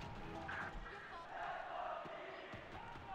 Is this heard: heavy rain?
no